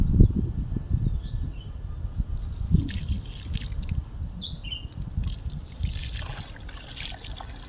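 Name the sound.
water flowing and dripping from a farm pipe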